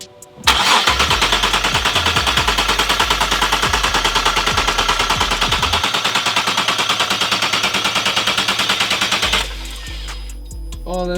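Supercharged Infiniti Q50 engine cranks, catches and revs loudly for about nine seconds with a rough, rapid pulsing idle and blips, then cuts off and people speak briefly.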